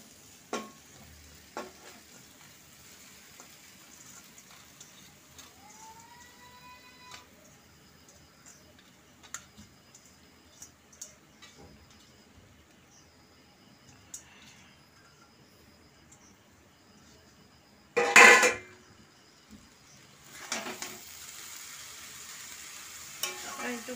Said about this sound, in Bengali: একটু ভালোভাবে ভেজে নেবো একটু চাউমিনটা, একটু লাল লাল করে একটু ভেজে নেবো চাউমিনটা।